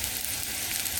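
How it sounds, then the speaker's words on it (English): Ginger sizzling in hot oil in a pan as the first step of a sticky chicken wing sauce, a steady dense crackle held at an even level for the whole moment with no voices. "I'm going to fry up my garlic and the ginger"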